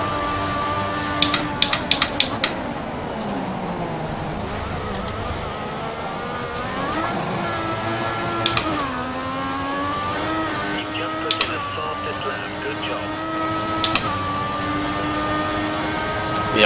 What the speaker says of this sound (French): je vous laisse écouter le moteur et le bruit du volant